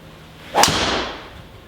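A single sharp whooshing crack of a Ping G400 golf driver striking a ball, a quick airy burst that fades away, with no talking.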